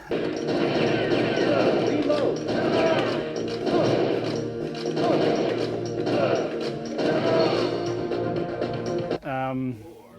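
Time Crisis light gun arcade game footage, with dense, loud gunfire, crashes and thuds over game voices, continuing nonstop until a brief pause near the end.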